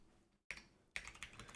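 Typing on a computer keyboard during a livestreamed coding session, a short quiet burst of a few crisp, closely spaced key clicks after a brief silence.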